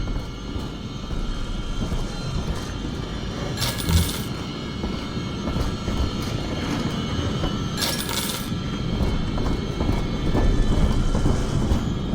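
In the video game Bioshock 2 Remastered, a train rumbles and rattles steadily with a heavy low drone, and two brief bursts of hissing or screeching are heard.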